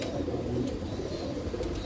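Pigeons kept by a Lahore fancier coo in a low, continuous murmur, several birds overlapping in a steady soft rumble with no talk.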